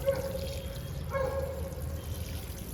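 Water pours steadily in a thin trickling stream onto plants throughout, fairly quiet with a faint background hum, no voices.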